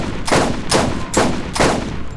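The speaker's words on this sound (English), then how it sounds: "Alright, now I gotta try out the sniper on his ass" Four evenly spaced sniper rifle shots from the Borderlands video game, each a loud, sharp crack with a short decaying tail, about half a second apart.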